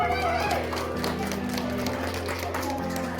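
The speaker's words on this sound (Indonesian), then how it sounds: "Terus tepuk tangan dulu dong." An audience at an awarding night claps in a scattered patter under a voice, with music playing faintly behind.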